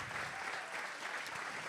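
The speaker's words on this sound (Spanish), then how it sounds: "Aplauda con un poco más de fuerza," A church congregation claps steadily in a continuous wash of applause that holds at an even, moderate level from start to finish, with no voices rising above it.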